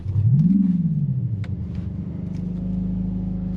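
A 2025 Mercedes-AMG CLA 45 S, 416-hp turbo, in Sport Plus mode gives one rising rev that peaks and falls back, then settles into a steady, throaty idle hum close by.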